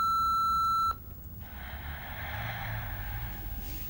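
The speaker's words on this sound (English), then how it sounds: "if you leave your name and number after the beep" Answering machine beep, a single steady electronic tone held loud and clean for about a second, then cutting off to quiet room noise.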